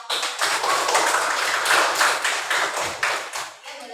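Classroom applause for the first student group, a dense, steady patter of many hands clapping at close range for about four seconds, with no talking over it.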